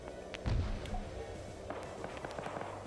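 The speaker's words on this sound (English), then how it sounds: "I'm hearing a lot of gunfire." Video game gunfire: one loud close shot near the start, then scattered fainter distant pops and crackles, with no talk.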